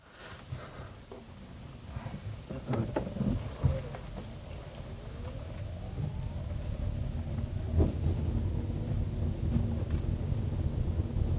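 Interior of a moving Nissan Leaf electric car, a steady low road and wind rumble rising gradually as it picks up speed, with a faint whine and occasional bumps and clicks.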